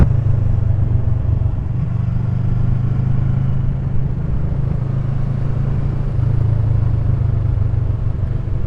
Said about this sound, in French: Je vais rouler tranquille parce que c'est pas ma moto